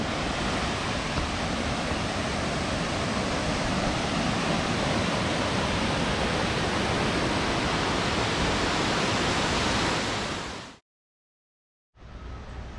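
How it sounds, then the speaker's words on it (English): Stainer Falls, a waterfall in Victoria, Australia, roars as a steady, dense broadband rush that holds constant for about eleven seconds before cutting out briefly and resuming. "There's the falls themselves, Stainer Falls."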